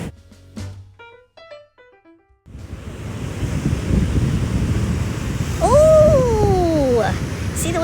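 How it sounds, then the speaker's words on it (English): Ocean wave closing out on a Hawaii beach, a loud roaring surf wash building and sustaining after a few seconds of quieter sounds, with a voice exclaiming over it. "See the wave close out"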